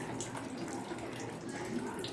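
Water, measured in tumblers, poured steadily into rice in a pressure cooker while making tomato rice, a soft continuous splashing trickle at low level.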